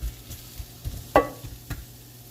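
Flattened smashed chicken pieces crisp in a pan with a close sizzle and scattered pops. One sharper spatter stands out mid-way, and no one talks.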